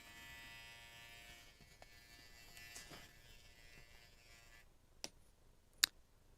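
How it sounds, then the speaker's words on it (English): An Andis T trimmer cuts hair in a salon, cleaning up the edges of a men's cut. Its faint, steady electric buzz hums and then stops, followed by two sharp ticks. "This trimmer is the Andis T trimmer."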